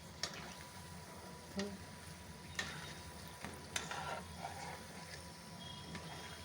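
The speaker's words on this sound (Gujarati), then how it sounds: "હવે આપણા ભજીયા સરસ તળવાના છે, ધીમા ગેસે જ તળવાના છે" Methi bhajiya frying in oil on a low gas flame, a quiet, faint sizzle with scattered soft clicks and taps, no talking.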